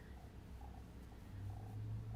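A ten-week-old kitten purrs softly and steadily up close, a faint low rumble with no talk over it.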